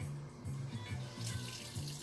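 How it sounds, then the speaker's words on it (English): Tap water running steadily into a measuring cup at a kitchen sink, a continuous close splashing rush with a faint pulsing low hum, no voices. "I'm going to put some hot water in this. Actually, it doesn't even need to be hot,"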